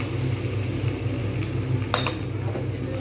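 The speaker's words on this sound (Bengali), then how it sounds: "জাস্ট একটু নাড়িয়ে নেব।" Ridge gourd and potatoes with poppy seed paste being stirred in a pan, a steady low sizzle with a soft scrape of the utensil against the metal near the middle.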